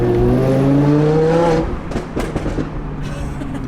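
Supercharged Audi R8 V10+ (830 horsepower) engine pulling hard with rising harmonic tones for about a second and a half, then dropping off into rougher, crackling exhaust bursts, loud and close.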